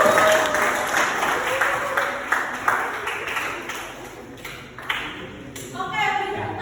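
An audience claps continuously through the whole stretch, a dense patter of many hands at moderate volume in a room at a classroom talk-show roleplay, with a few sharper individual claps and faint voices mixed in.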